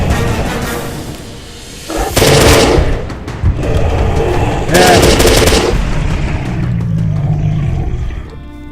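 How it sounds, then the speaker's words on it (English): Video-game gunfire in a snowy zone as the player tries to shoot something out of the air: two loud bursts of rapid shots over a steady rumbling background, with quieter firing between them. "See if I can shoot it out of the air."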